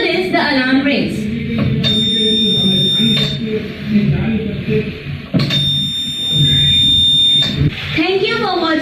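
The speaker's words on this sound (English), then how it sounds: "Due to this, the alarm rings." An electric alarm buzzer in a 9-volt battery circuit rings in two bursts of about one and a half seconds each, a steady shrill tone heard under a person talking.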